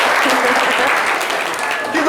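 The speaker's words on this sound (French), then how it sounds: "Merci beaucoup, Bachela, qu'on raccompagne avec des applaudissements" A live audience at a talk show with the group Magic System applauds a departing guest, a dense clapping wash with voices mixed in beneath it.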